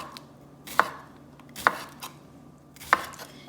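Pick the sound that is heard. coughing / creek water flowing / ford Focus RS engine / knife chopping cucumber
knife chopping cucumber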